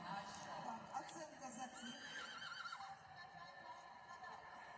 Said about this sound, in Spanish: el caballo, la raza acalteque, recuperada no hace mucho, utilizada hoy en día como caballo de carrera